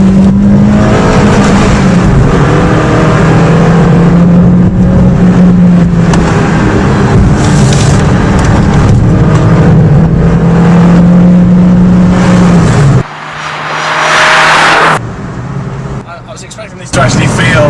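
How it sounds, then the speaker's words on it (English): Renault Clio Williams or 2010 Ford Focus RS engine revving on the road, loud and close, with rising and falling pitch through gear changes and throttle blips, then a brief drop and renewed surge near the end. "As soon as you change gear and rev it and give it a blip"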